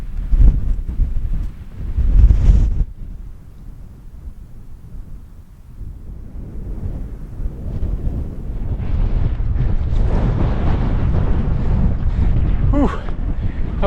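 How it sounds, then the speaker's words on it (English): Strong gusting wind in the mountains buffets the microphone with loud roaring bursts that ease, then build again into a sustained blustery rush. "I was not expecting it to be this windy up here."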